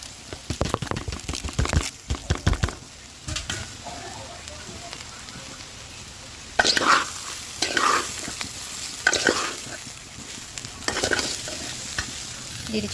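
Washed rice and mung dal fry in a pot for khichuri, with bursts of loud sizzling and repeated stirring scrapes of a spoon, separated by quieter stretches of low crackle.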